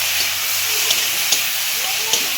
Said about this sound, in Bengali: এখন এটাকে ভালো করে কষিয়ে নেব একটু